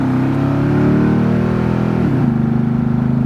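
Old GMC SUV engine idling steadily, a close, continuous low rumble with even harmonic tone and a slight shift in pitch near the end, no talking.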